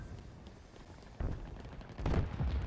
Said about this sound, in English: Oh, we're getting shot back.